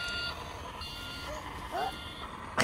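A toy garbage truck gives off a repeated electronic reversing beep, faint and steady over the background hum of a shop, with a voice briefly audible.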